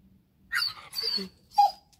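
Dogs at a riding stable let out three short, close whining and yelping bursts separated by brief silences, with the last one sharper and higher.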